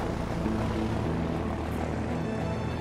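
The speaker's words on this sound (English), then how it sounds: "This the plane where we load in the game, when it first began" A propeller plane engine drones steadily in the video game A Way Out, with a loud, continuous, unchanging hum and no talk over it.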